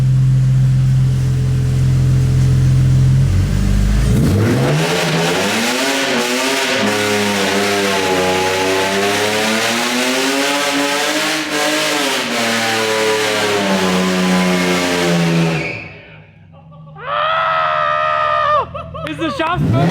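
An automatic, fully tuned BMW E46 does a burnout inside a shop, its engine revving loud and high with tires screeching for about eleven seconds before cutting off, followed by shouting voices.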